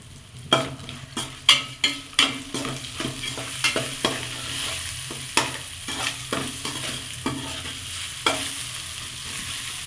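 Ground curry leaves are stirred with oil in a pan, with a loud, close series of scraping stirs over a steady sizzle, the strokes quick and regular at first, then looser and more spread out.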